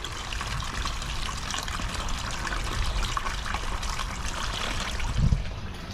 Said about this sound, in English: we still have good flow out of the waterfall